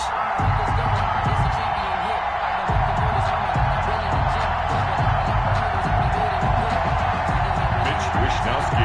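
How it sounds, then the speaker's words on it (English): In an EA Sports football video game, a stadium crowd roars steadily before a San Francisco 49ers versus Baltimore Ravens kickoff. The dense, sustained cheering sits under an announcer's ongoing commentary. "This crowd is ready"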